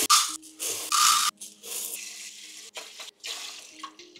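Water runs from a tap in bursts into a rice cooker pot to cook rice, loud splashing pours alternating with short pauses and faint clicking handling sounds.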